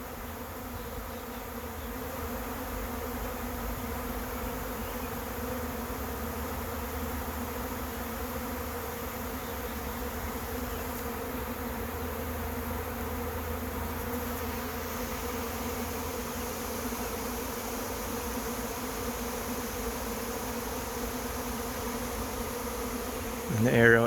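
A honey bee swarm moving into a trap drones in a dense, steady hum of many wings, continuous and even throughout, with a brief louder rustle at the very end.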